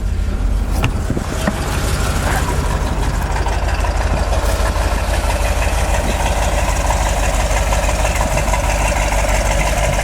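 A 1970 Corvette with a 454 big-block V8 idles with a constant deep, loud rumble and steady low throb, close up, with a brief rough burst near the start.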